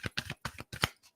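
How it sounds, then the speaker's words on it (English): A deck of tarot cards is shuffled close up, giving quick riffling bursts in an uneven rhythm, crisp and fairly quiet. "Last shuffle, Spirit."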